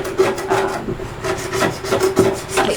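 A hand tool scrapes and gouges an older wooden bookcase before sanding, giving loud, continuous rasping strokes in a steady back-and-forth rhythm, close up with no talk.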